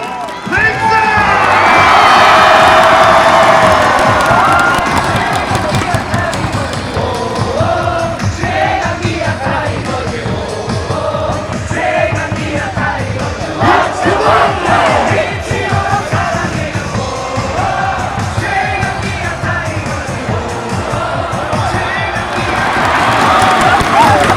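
A large baseball crowd at a KIA Tigers game at Champions Field cheers and shouts loudly and continuously, a dense roar of many voices with yells rising and falling throughout.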